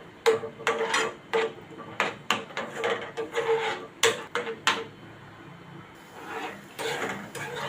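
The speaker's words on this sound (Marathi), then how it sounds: "मिडियम टू स्लो गॅसवर आपण हे सारखं ढवळत राहायचं आहे" Coconut laddu mixture with milk powder is stirred in a pan over medium-low gas, making close scraping and knocking strokes in an irregular rhythm, with a brief quiet pause partway through.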